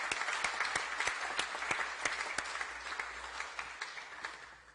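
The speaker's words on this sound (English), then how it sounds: "I'm going to ask you all to join me in a round of applause" Steady applause from a crowd in a council chamber meeting, many hands clapping together at an even, moderate level without voices.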